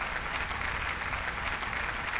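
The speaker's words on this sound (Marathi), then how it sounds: "आपण त्यांच्यासाठी एकदा छान जोरात अगदी मनापासून टाळ्या वाजवूया." A hall audience at a women's honours ceremony claps for the organisers, a dense, even, continuous applause filling the space at steady loudness throughout.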